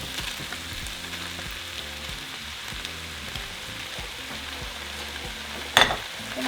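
Meat and potatoes fry together in a pan while cooking gorditas filling, a steady low sizzle with faint stirring, then a sharp clatter as the food is moved near the end, no speech.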